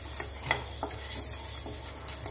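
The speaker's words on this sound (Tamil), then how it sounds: "கருப்பு உளுந்து வறுப்பட்டு இருக்கும் போதே மிளகு சேர்த்துக்கலாம்." Black urad dal is dry-roasted in a pan and stirred, making quiet, repeated scraping and rustling strokes close by with no talking.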